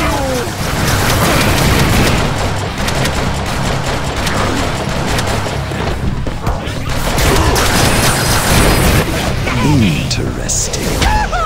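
Gunfire in the Deadpool video game, a dense loud barrage of rapid shots and crashing impacts running continuously, layered with game effects and occasional voices.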